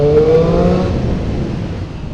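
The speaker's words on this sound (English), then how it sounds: "here is sound test tunnel with the stock exhaust." A 2017 Triumph Street Triple R 765 triple-cylinder motorcycle with stock exhaust roars with a rising rev, then fades into a reverberant drone as it echoes through a tunnel.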